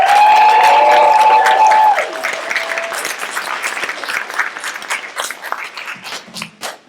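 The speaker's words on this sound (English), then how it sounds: "big round of applause for Mike" A live audience at a pun contest gives a round of applause for a finalist, with a sustained tone over the opening seconds; the clapping stays loud and dense, then thins toward the end.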